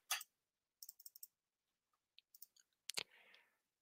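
Soft mouse clicks in a quiet room, a scattered series of small, sharp ticks in short clusters, faint and close, with no talking.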